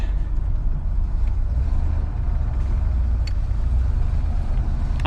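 A Ford F150 pickup truck pulling away to circle the block, engine rumbling low and steady from inside the cab, with a few faint clicks and rattles over the constant drone.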